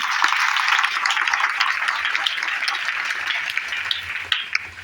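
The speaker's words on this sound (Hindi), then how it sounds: "तो अपने अप्लाई के लिए जोरदार ताली बजा दो भाई" A crowd at a DXN business leadership event claps loudly and continuously, a dense roar of many hands that eases slightly toward the end.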